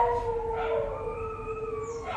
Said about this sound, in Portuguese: Vou esperar os cachorros passarem.